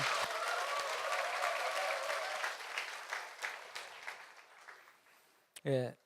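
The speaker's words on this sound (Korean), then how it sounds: "큰 박수 부탁드립니다" A church congregation at an all-member retreat gives the visiting pastor a big round of applause, steady clapping that thins out and fades, ending with a short voice.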